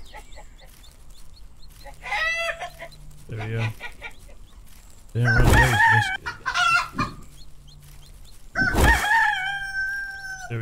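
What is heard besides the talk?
chicken clucking and crowing in survival video game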